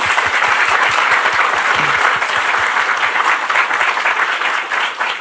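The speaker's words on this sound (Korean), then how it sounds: "우리 그분들을 위해서 박수를 좀 합시다" A church congregation claps steadily during an evening revival meeting sermon in Suncheon, South Korea: a dense, loud, continuous wash of applause filling the hall for several seconds.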